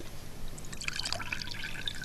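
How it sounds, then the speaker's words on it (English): Water tipped out of a wine glass patters and drips in a brief close burst of small splashes over a faint low hum. "If I tip the water out"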